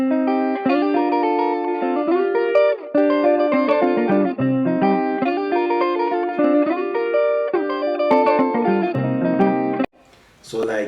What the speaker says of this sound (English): this is the guitar melody. Without any effects, it sounds like this